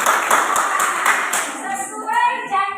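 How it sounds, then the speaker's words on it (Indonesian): Brief burst of classroom applause for a student group, many hands clapping at once before fading as a voice begins talking. "Oke, beri tepuk tangan untuk kelompok 3."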